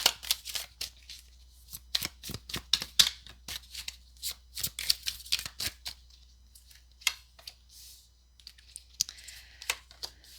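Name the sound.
shuffling a tarot card deck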